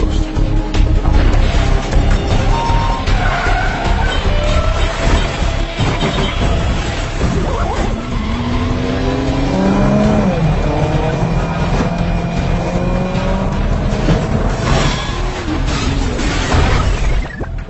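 Engine roar and tyre screech from a car in a movie chase, loud and continuous, with crashes and bangs mixed through a dense cinematic soundtrack.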